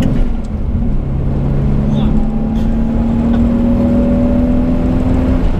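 A 1980s Toyota Supra's turbo engine drones steadily from inside the car, its pitch climbing gradually as it accelerates, loud and continuous.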